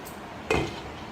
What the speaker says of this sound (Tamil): இதை நல்லா கலந்து இப்போ மூடி போட்டு மூடி வச்சிடலாம்.